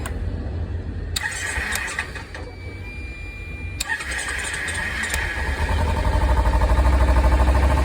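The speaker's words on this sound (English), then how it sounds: "You start the engine." A Kawasaki engine is started while a relay box fault is being traced, cranking with sharp clicks before catching into a steady, loud mechanical drone that builds toward the end.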